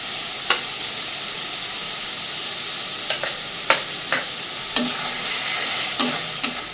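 Spice masala frying in a pan with a ground cashew and poppy seed paste, a steady sizzle broken by several sharp scraping strokes of a spoon stirring through it.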